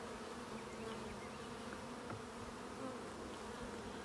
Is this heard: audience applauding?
no